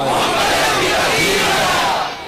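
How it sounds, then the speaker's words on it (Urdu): A large crowd at a religious gathering roars a chanted slogan in unison, a loud dense wall of voices that fades slightly at the end. "آج میری امت وہی نعرے لگا رہی ہے"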